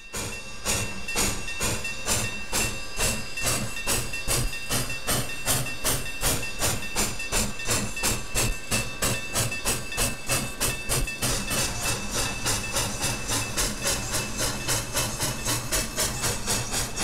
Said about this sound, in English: the train departs westbound out of Albany Union Station